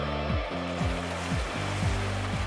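Rough sea water churning around trainees as they jump in during maritime rescue training, a loud continuous wash of surf and splashing, with a repeating low, falling drone underneath and no talking.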